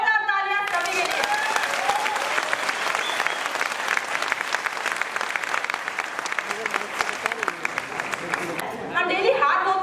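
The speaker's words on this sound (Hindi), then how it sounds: "एक बार जोरदार तालियां सभी के लिए।" A live audience at a Vestige product training session in India breaks into loud, sustained applause, dense clapping running nearly ten seconds at an even level before tapering off as a voice resumes.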